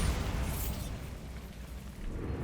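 A Bombarda blasting spell detonates in Hogwarts Legacy, a loud burst at the start that decays into a rumbling low tail over the following seconds.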